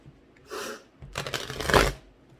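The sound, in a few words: shuffling tarot cards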